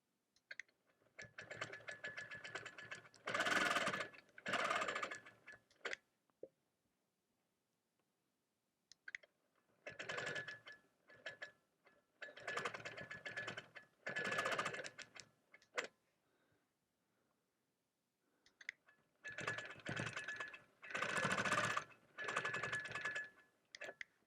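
A sewing machine stitches in the ditch on an appliqué quilt, whirring and clicking in three long bursts of several seconds each, separated by pauses of near silence, close and moderately loud.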